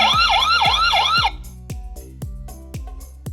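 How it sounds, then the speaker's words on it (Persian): Alarm siren of a solar-powered CCTV camera wails loud and close in rising-falling sweeps, three cycles, then cuts off into a series of short sharp clicks or thumps. "این هم آژیرش که اگر که یک مشکلی به وجود اومد بشه استفاده کرد"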